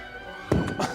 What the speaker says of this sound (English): Even mortars, which are used on the battlefield.